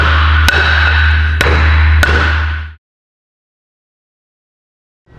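Three sharp hammer taps drive a spline onto a boom mower actuator shaft, each strike ringing briefly over a steady low hum before everything cuts to silence.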